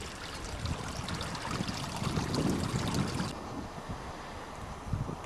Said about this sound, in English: By a babbling brook